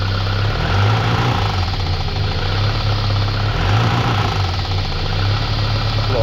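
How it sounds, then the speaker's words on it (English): A car engine with a throttle position sensor acceleration fault runs at a rough, loud, close idle, its pitch swelling briefly twice as the throttle is pressed. "Alright, so I'm gonna give it a little gas right now."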